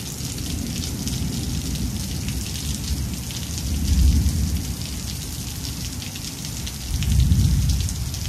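Steady rain pours down across a wide hiss of drops, and two deep thunder rumbles swell up beneath it, one near the middle and one near the end, with no voices.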